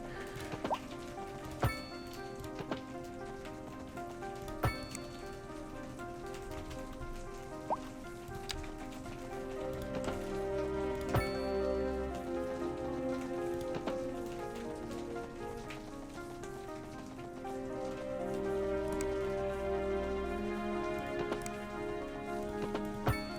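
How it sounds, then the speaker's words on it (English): Steady rain patters on a surface, with scattered sharp drips and thumps, while a soft musical tone hums underneath throughout. "that's just the rain coming in"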